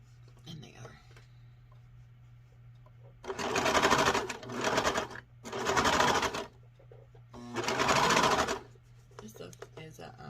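Twin-needle sewing machine stitching thick sweatshirt fabric, running in three bursts of rapid whirring lasting a second or two each, close and clear, with soft speech between the runs.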